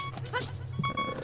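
A cow moos in Ocarina of Time Master Quest, a short low bleating call lasting about a second, fairly faint and close against steady game background music.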